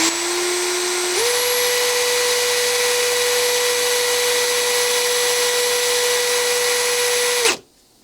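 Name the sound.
engine valve spun and cleaned with brass brush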